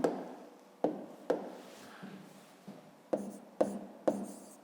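A pen writes labels on a coordinate ray in a maths exercise, giving a series of about eight short, separate scratching strokes and taps on paper, close and quiet, with no talk.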